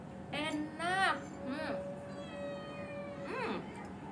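Several drawn-out, rising-and-falling meows sound close by at a family meal table, with people talking around them.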